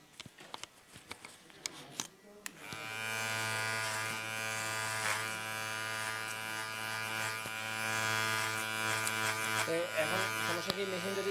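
A low-priced electric hair clipper hums steadily and close after a few soft clicks, its motor buzz continuing for several seconds with a faint spoken voice beneath.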